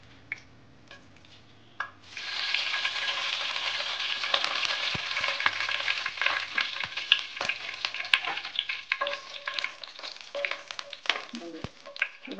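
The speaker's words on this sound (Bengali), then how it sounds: "এবার আমরা ফোড়নগুলি দিয়ে দিচ্ছি।" Whole spices tempering in hot oil in a kadai for a tomato chicken curry: a loud, steady crackling sizzle that starts abruptly and then continues evenly, with a few sharp pops and scrapes scattered throughout.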